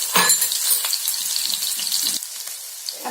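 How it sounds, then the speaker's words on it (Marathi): Crushed garlic sizzles in hot oil in a kadai for a mackerel curry: a steady, close frying hiss that swells at the start and stays busy throughout, with faint stirring knocks and no voices. "आता लसूण जरा परतूया तेलावर"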